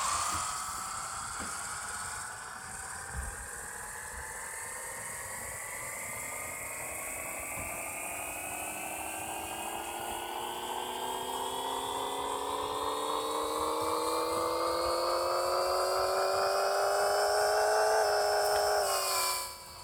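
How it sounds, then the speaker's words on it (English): A game car engine from Pixel Car Racer on a dyno run, pitch climbing steadily in one long rev for nearly twenty seconds, loud and close, before cutting off abruptly at the end. "turn up the volume and hit the dyno."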